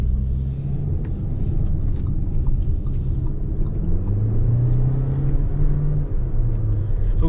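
An Audi Q3 with 150 horsepower accelerating from the driver's seat, a steady low engine rumble and road noise with a rising tone as revs climb and a gear engages, continuous throughout.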